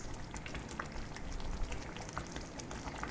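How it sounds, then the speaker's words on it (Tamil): A pot of Tamil brinjal kuzhambu curry bubbling at a simmer, with soft irregular pops and blips over a low, continuous murmur, heard faintly and without talk. "குழம்பு நல்லா சுண்டி கொதிச்சிட்ருக்கு பாருங்கள்"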